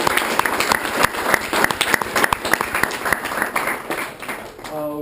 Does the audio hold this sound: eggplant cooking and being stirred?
no